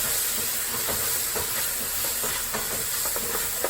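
Sake poured into a hot pan while cooking a Cajun Asian seafood boil, sizzling and hissing steadily with a few scattered clinks and stirring knocks, close and continuous.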